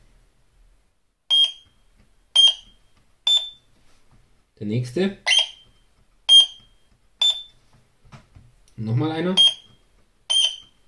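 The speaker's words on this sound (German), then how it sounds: "Das Testophon ist, wie schon mal gesagt, ein Durchgangsprüfer, der je nach Durchgang unterschiedliche Töne von sich gibt." A continuity tester beeps in short, even bursts as pins of LS02 logic chips on a C64 Super Mario Bros cartridge are probed, about eight clear tones spread across the stretch, with someone speaking briefly between them.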